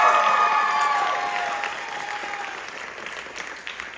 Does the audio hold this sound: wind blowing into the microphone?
no